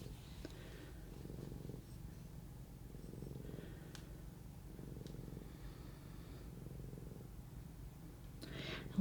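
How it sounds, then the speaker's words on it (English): A steady, close cat purr rumbles continuously in low, rhythmic waves, with faint rustling and a small click or two over it. "I love listening to you purr"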